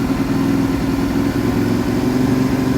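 A motorcycle fitted with a GP oneCarbon exhaust holds a steady rev around 2,500 RPM, a loud, close, unbroken engine drone with no voices.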